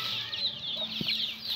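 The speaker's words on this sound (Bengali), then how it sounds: "এখন আমি মুরগি বাচ্চাগুলোকে খাবারগুলো দেব" Young chickens at morning feeding make a busy stream of soft, high chirps and clucks, fairly quiet and continuous, with a brief low knock partway through.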